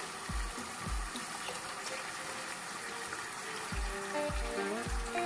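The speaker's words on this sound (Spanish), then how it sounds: "le vamos a agregar agua" Water is poured into a pan of bolognese sauce, a soft, continuous gush and sizzle heard faintly over steady kitchen background noise.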